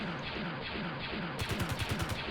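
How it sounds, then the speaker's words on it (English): Ion cannons on a Y-wing starfighter in Space Engineers fire at meteors, opening after a steady hiss into a rapid rhythmic burst of about nine sharp shots, moderately loud. "ion cannons shooting at the meteors"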